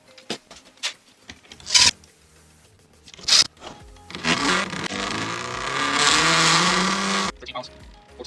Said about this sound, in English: I'm going to wear it in a little bit by spinning it